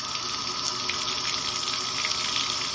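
Steady, close water gushing from a bath faucet just turned back on after a leak repair, a dense continuous rush with no breaks and no talking.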